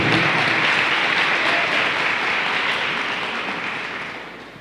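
A church congregation applauds during a live Portuguese-language worship service, a dense, sustained wash of clapping that holds steady and then slowly fades toward the end.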